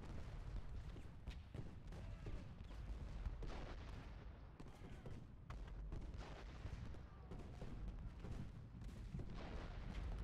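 Artillery in the Civil War strategy game Ultimate General: Gettysburg thunders as dense, continuous distant booms and rumbling volleys of battle, fairly quiet throughout.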